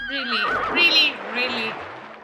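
A horse in a video game gives a loud, close whinny that rises and wavers for about two seconds, followed by a softer trailing snort.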